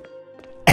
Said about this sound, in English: A coughing fit.